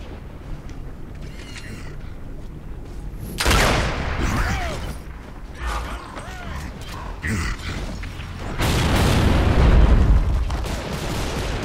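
Grenade explosions in a first-person shooter game, two heavy rumbling booms several seconds apart over continuous game ambience, with faint mechanical creaks and distant gunfire between them.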